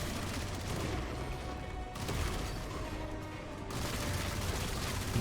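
Dense, continuous gunfire and explosions from the roguelike shooter video game Armatus, a loud, steady wash of combat noise that barely dips and has no clear gaps or voices.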